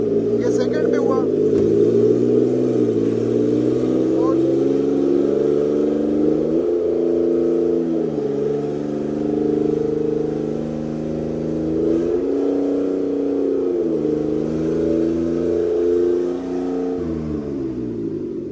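An automatic Suzuki Alto VXR engine revving on a jack during a stationary test drive, a steady mid-pitched hum that rises and falls through several gear-like shifts, close and continuous.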